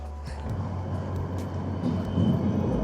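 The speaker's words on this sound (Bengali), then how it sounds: "ট্রেন যাচ্ছে" A train passing along a narrow railway track beside a cramped road, a steady low rumble that swells slightly toward the end, fairly close and continuous with no talk over it.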